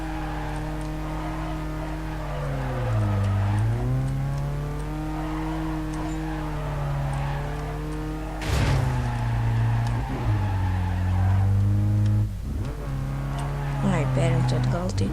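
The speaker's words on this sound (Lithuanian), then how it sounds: "Gražiai čiuožia mašina." Race car drifting in the video game Need for Speed Carbon, its engine droning in long gliding pitch sweeps that rise and fall through slides, with a sharp surge midway. Someone talks over the game sound.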